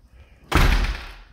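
A front door of an apartment unit shuts with one loud, close slam and a short resonant thud that decays quickly, after a brief quiet moment.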